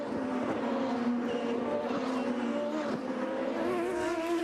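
Champ Car race cars roaring down the front stretch at a 2007 race, loud sustained high-pitched engine whine with shifting pitch as several cars sweep past, continuous and close.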